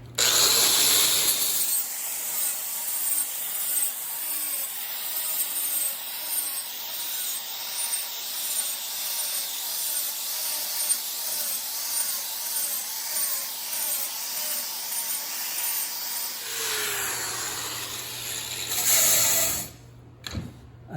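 An angle grinder fitted with a cleaning attachment works over welds on an ornamental iron gate, a steady abrasive whir with rhythmic scraping pulses, close and loud, running continuously before winding down near the end.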